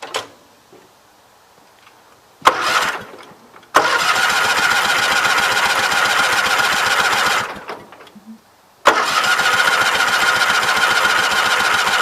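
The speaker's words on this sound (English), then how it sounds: "I put some more gas in it now, so let's just see if it'll fire up." Small engine on a 20-G machine being cranked and firing up after refueling, loud close idling that cuts out briefly and restarts, with a short cranking burst before it catches.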